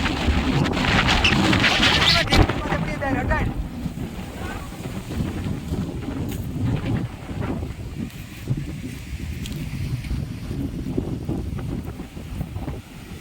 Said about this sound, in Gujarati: બહુ જ વધુ પવન છે.